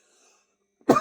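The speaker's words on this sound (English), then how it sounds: "excuse my little cough." A single short cough from a person, close and fairly loud, coming at the end of a near-silent stretch.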